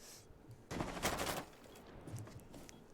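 A short burst of rapid gunfire in the video game Rainbow Six Siege, roughly half a second of crackling shots, set against quiet background noise.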